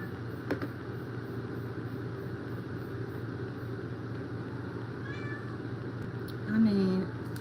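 A cat, the mother cat, gives a single short meow near the end, set against a steady low rumble of background hum.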